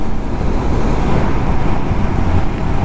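Sea surf rolls continuously beside a coastal highway, a loud, steady broadband wash mixed with wind buffeting the microphone and a low rumble that may be passing traffic, with no talk.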